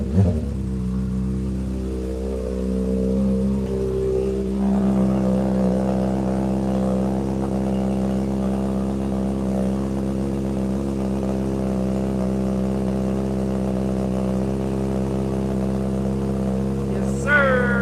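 A motorcycle engine with a full tank runs steadily, burning rainwater off the exhaust. It gives a sharp rev at the start, settles into a throbbing, even idle close by, and ends with a brief rise at the end.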